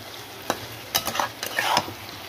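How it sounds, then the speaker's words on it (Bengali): Fish being stirred in a pan of bubbling oil and spices, a few distinct scraping stir strokes over a steady background sizzle, close and moderately loud. "ভালো করে নাড়িয়ে নিই।"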